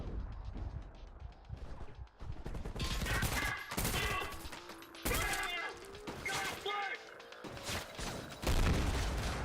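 Rifle gunfire in the shooter game Trepang2, loud bursts of rapid shots and crashing impacts filling most of the stretch, with brief lulls between volleys.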